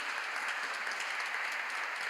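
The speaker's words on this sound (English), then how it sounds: "So a round of applause for our students." Steady applause from an audience at a university event, a continuous wash of clapping hands with no pauses, fairly even in loudness throughout.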